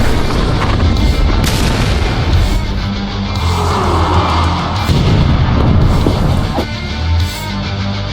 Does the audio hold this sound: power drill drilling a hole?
no